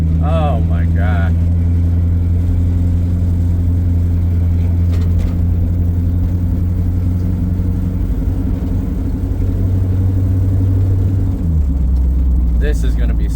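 A 51-year-old Plymouth Cuda with new suspension drives along, its engine rumbling steadily and close up with a low droning hum, a brief rev change near the end, and a voice talking over it.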